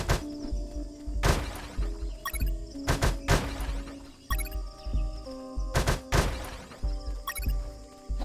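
Bamboo being smashed apart in the UnMetal video game, a series of sharp cracking whacks and thunks at irregular intervals over retro game music.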